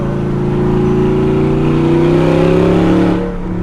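A straight-piped Audi R8 revs hard, its exhaust roaring loud and close with a rising, droning engine note that climbs steadily before cutting off abruptly near the end.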